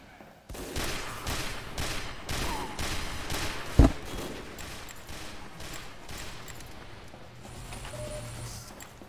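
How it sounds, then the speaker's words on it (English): Video game gunfire in TF2 aimed at a sniper, a steady run of loud repeated shots at an even rhythm with one sharp louder crack partway through, then thinning to fainter shots and background game noise. "Let me shoot this sniper here."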